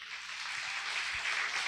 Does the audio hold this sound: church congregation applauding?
yes